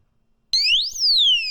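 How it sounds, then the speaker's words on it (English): A cheap Chinese brake disc lock's alarm starts abruptly after a moment of silence, a loud, piercing electronic tone that sweeps upward and then slides back down, close by and alone. "that was the warning and the alarm."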